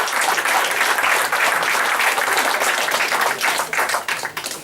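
Sustained audience applause at a Portuguese poetry book launch, dense and loud clapping from many hands filling the room throughout, fading slightly near the end.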